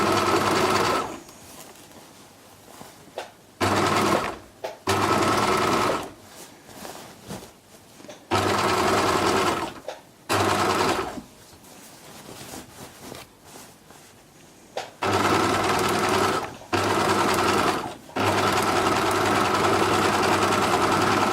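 A sewing machine stitches around the top edge of a fabric beach bag in repeated loud whirring runs of a few seconds each, broken by short quiet pauses, with no speech.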